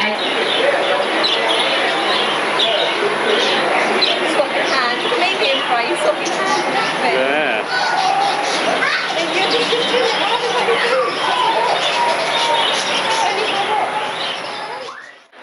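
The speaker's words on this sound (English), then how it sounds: "I actually went in an aviary and fed birds" Birds chirp and tweet inside an aviary at Gatorland in Orlando, a steady busy chatter mixed with children's voices and people talking nearby throughout.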